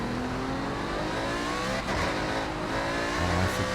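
A Maserati in a racing game revs hard, its engine a continuous, loud, high-pitched roar that briefly dips around the midpoint and then climbs again, with no speech.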